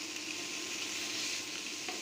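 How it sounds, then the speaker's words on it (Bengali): Six pieces of rohu fish fry in a little oil in a pan, giving a soft, steady sizzle with a faint stir or scrape near the end, heard alone without talk. "অল্প তেল দিয়ে রুই মাছগুলো ভেজে নিব এপাশ ওপাশ করে"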